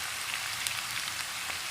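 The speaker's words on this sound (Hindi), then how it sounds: "बारिश आ गई है।" Steady rain patters on a surface, a dense continuous hiss of drops with no voices.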